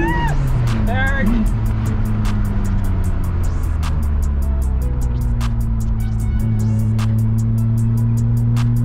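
A manual Nissan R32 GTR drives in third gear, its engine drone steady and loud with a shifting pitch and a rhythmic ticking running throughout.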